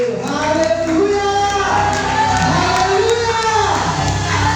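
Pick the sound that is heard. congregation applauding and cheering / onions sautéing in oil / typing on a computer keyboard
congregation applauding and cheering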